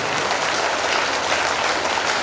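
A crowd at a religious discourse claps loudly and steadily to welcome guests, dense applause filling the space with no talking over it.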